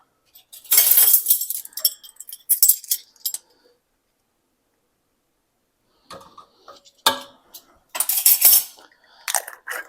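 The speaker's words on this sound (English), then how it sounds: "Just mix that in here." Spoon scraping and clinking against a bowl in bursts while baking ingredients with vanilla and nutmeg are mixed, with a quiet gap in the middle before the stirring resumes, close and clear without talk.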